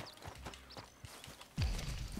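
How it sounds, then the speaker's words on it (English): Horse hooves clip-clop at a walk in the video game Red Dead Redemption 2, a few soft, evenly spaced steps followed by a louder thud and game sounds. "Wait, is that my horse over here?"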